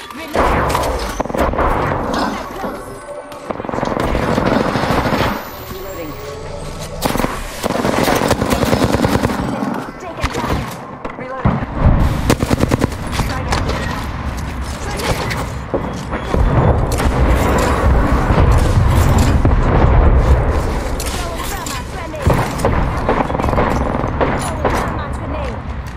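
Video game gunfire plays loud and nearly nonstop, with dense bursts of rapid shots and heavy booms, and a player's voice talks over parts of it.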